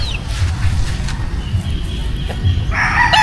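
Gamefowl roosters, white kelso and gray birds, crow on a farm, with one loud drawn-out crow rising near the end over a low rumble of background noise.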